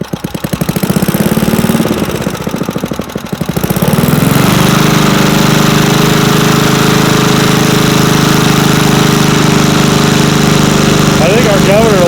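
A vintage Craftsman lawn mower engine sputters and knocks, then catches and roars into a loud, steady run close by.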